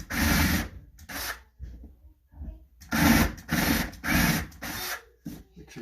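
Countersink bit boring into a pine closet shelf in several short bursts, each a loud grinding rasp lasting under a second, separated by quiet pauses.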